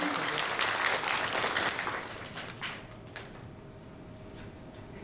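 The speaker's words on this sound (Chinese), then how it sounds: "来，让我们掌声，谢谢掌声。" Audience applause at an award ceremony in Tainan, a dense burst of clapping from a large crowd that rises, holds, then tapers off into scattered claps and quieter room noise.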